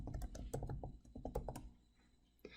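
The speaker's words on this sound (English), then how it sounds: "I'm just going to use my tab key on my keyboard to quickly jump to the next schedule" Typing on a computer keyboard with tab key presses: a quiet, irregular run of close, crisp key clicks with brief pauses, ending in one last tap.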